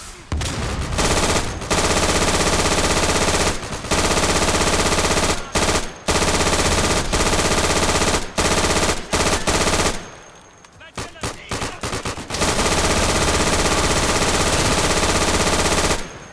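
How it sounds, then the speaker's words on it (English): Sustained MG42 machine gun hipfire from Day of Infamy, loud and near, long rattling bursts broken by short pauses, with a quieter stuttering stretch in the middle before full automatic fire resumes. "MG42 hipfire beats flamethrower in that room"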